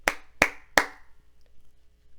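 Hands clap three sharp, close beats in an uneven rhythm like a spoken word pattern, the last clap ringing slightly, then quiet.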